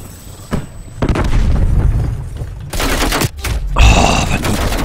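Grenade blast and surrounding gunfire in the shooter game Call of Duty Black Ops Cold War, loud bursts and booming impacts in quick succession with a short gap of near silence before another heavy hit.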